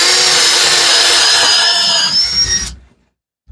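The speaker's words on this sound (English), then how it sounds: "I'm going to drill some holes in these here" Power drill boring holes in wood, a loud continuous whining motor for under three seconds that winds down and stops, followed by silence and a brief knock.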